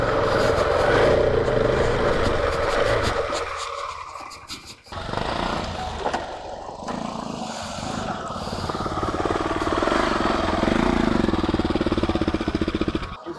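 A motorcycle engine runs loud and steady during riding practice, its roar rising and falling as the bike moves, with a short dip partway through.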